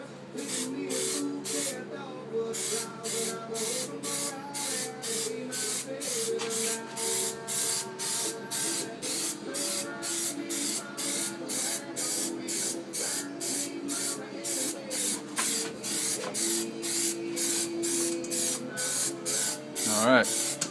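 Aerosol can spraying Plasti Dip onto the rear window trim of a Chevy Blazer in rapid, evenly spaced hissing bursts, close and steady throughout with a short pause near the start.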